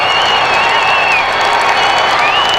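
Mets fans roaring and applauding after a Mike Piazza three-run double, a dense sustained stadium cheer with whistles rising and falling, and a commentator speaking over it.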